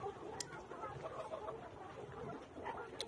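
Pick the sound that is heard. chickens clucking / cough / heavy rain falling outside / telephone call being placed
chickens clucking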